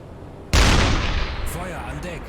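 A submarine deck gun in the UBOAT sub simulator fires one sudden, loud booming shot after a quiet moment. The blast rolls off in a long decaying rumble as a voice begins speaking underneath.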